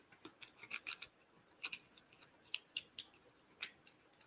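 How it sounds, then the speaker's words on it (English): A deck of cards for the golf-themed deck-building game Duffers being shuffled by hand, a run of quick papery riffles and flicks in uneven bursts, close and fairly quiet with no talk. "All right, so we shuffled these up."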